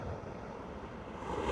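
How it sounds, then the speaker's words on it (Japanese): Ocean surf washing steadily near a fishing boat off Okinawa, a continuous broadband rush of breaking water with a slight swell in loudness toward the end, no voices over it. "今の波だった"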